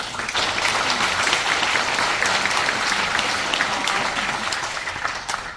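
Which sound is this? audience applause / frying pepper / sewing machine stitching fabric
audience applause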